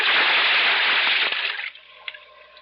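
A diver plunges into water with a loud, rushing splash and surge of bubbles, which then drops to quieter, sparse gurgles as the sound settles.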